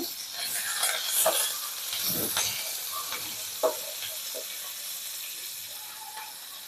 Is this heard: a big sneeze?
no